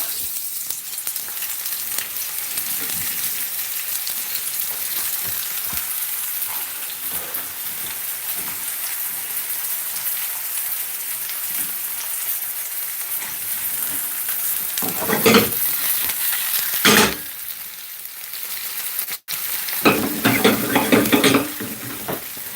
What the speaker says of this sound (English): we're gonna sweat off the onion.